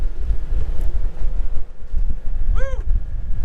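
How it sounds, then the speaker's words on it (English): Strong wind buffets the microphone at Sand Hollow, a steady low roar with gusts throughout and a brief high whistling tone near the end. "It's windy, Ed!"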